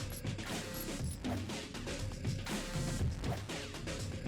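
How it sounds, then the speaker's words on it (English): Enemy in the video game Indika striking the player with a wrench, a string of metallic smacks and crashes amid busy, loud game noise, without speech. "He smacked me with the wrench."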